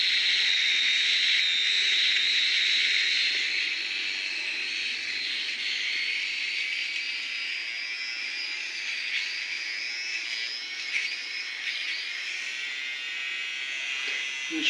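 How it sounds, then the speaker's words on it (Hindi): A cheap AliExpress electric hair trimmer runs steadily close up while cutting beard hair, giving a continuous high buzzing whine with slight shifts as it passes over the stubble, with no talking. "तो फ्रेंड्स पहले हम ये मशीन चेक करेंगे अपनी दाढ़ी पर के बाल वगैरह काटती है कि नहीं।"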